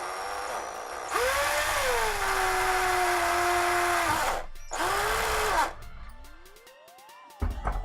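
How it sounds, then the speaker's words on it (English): An electric drill bores slowly through a plastic 3D printer Z-carriage, whirring loudly in a long burst, its pitch dipping as it bites, then a shorter second burst before it winds down. "we're going to nice and slow drill up through the Z-Carriage so we can put our second bolt hole in"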